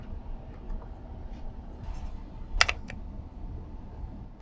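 Faint, sparse computer keyboard clicks over a low background hum, one sharper Enter key tap standing out near the middle.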